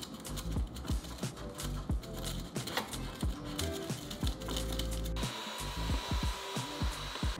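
A vacuum cleaner runs continuously and close by, sucking leftover coffee grounds out of a Breville Barista Express espresso machine. Knocks and clatter from the nozzle against the machine break up the steady roar, and the pitch shifts partway through. No one speaks.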